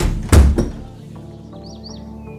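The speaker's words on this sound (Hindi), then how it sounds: "फ्लैट का दरवाजा बंद कर लिया" A flat's door is shut with a single heavy thunk near the start and a lighter knock just after, followed by a quiet room tone with faint chirps.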